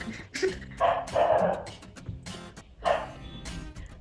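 A dog barks in a few short bursts, a pair of yips early, a longer run in the middle and another after a pause, fairly close and moderately loud with no talking.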